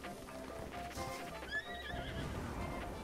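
In Breath of the Wild, a horse whinnies with a high, shaky neigh over clip-clopping hooves, faint and somewhat muffled beneath a noisy game soundscape.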